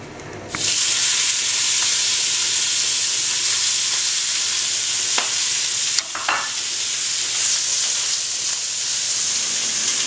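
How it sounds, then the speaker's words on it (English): Steady, loud sizzle of beef entrecote steak frying in oil in a hot pan, a continuous crackling hiss with brief pops, no talking. "I have my frying pan. I add some oil."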